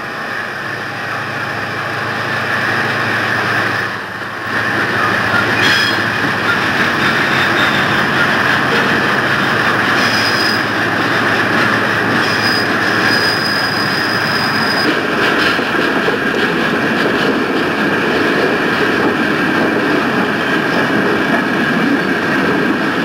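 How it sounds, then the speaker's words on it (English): A Southern Railway diesel locomotive laboring up a grade near Oak Mountain tunnel at low speed, a loud, continuous heavy engine roar with rumbling wheels and faint metallic squeals, steady throughout. "Diesel is still on the grade about a mile and a half north of the tunnel"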